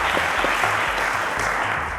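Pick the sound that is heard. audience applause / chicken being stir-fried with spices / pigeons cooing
audience applause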